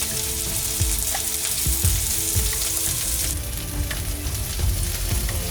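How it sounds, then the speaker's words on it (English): Steady oily sizzling and crackling of chopped onion, chili and garlic frying in a pan for momo chutney, with occasional scraping and stirring clatter close by. "so I'm just frying this thing. Let it turn red."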